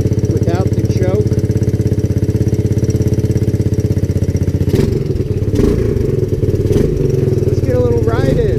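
A 1984 Honda ATC200S three-wheeler engine runs loud and close with a steady, rapid single-cylinder chug, then its note roughens and shifts partway through, as if throttled.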